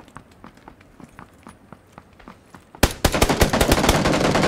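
AUG rifle fire in the video game PUBG: soft footsteps patter at first, then a sudden loud burst of rapid automatic shots that keeps going, close and dense.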